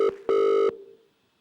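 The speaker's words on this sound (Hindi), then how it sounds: "प्रिंस करेंगे एक लाइव फोन कॉल एक मिनरल वाटर सप्लायर को" Telephone tones on a line being dialed for a live prank call to a mineral water supplier: a short electronic beep, a brief gap, then a longer steady tone, loud and clear, trailing off into near silence.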